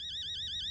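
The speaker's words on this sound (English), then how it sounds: "What kind of alarm is that?" A steady electronic alarm in the video game Fears to Fathom: Home Alone rings continuously in a warbling, repeating high tone, clear and close with no talk over it.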